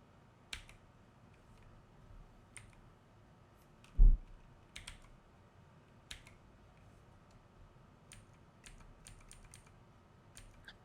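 Fast typing on a computer keyboard while entering a locale during a Void Linux install, quick sparse key clicks with one louder thump, close and quiet, with no talking.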